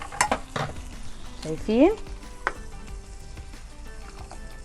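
Molokhia is stirred in an uncovered pan: scraping, clanking utensil strokes over a low sizzle, with a brief spoken word and a short voiced sound near the start.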